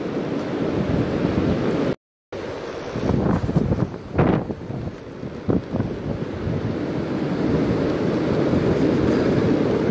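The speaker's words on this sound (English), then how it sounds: "It's so windy and blowing in snow, it's hard to see anybody out there on the ice." Strong wind sweeping blowing snow across a frozen lake, a steady loud roar buffeting the microphone throughout with a few brief gust swells and one short dropout.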